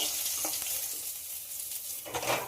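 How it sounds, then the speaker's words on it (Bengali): Fish frying in hot oil, a steady bright sizzle with a few stirring scrapes, close and continuous. "একই রকমভাবে পিছন সাইডটা মাছটা ভেজে নেব।"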